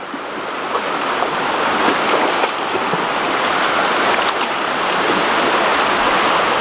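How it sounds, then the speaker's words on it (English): Limestone creek water rushes and burbles in a steady, loud broadband flow, close by, with no voices, in a creek running through Manlius, Onondaga County, New York. "This is the limestone creek that flows through"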